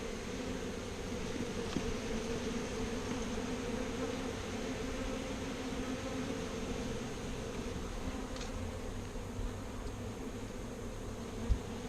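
A honeybee swarm buzzing steadily and close, a dense continuous drone with no pauses, joined by a couple of faint clicks, no talking.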